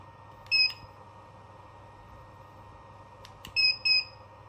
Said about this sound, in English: When we press the button, you'll hear a beep